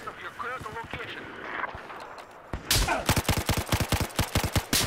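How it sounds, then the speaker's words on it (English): Sniper and automatic gunfire in Battlefield 4 multiplayer on PS4: scattered shots and faint chatter give way to a loud, rapid burst of repeated sharp cracks in a fast rhythm, close and dominant. "Fuck, I'm getting sniped."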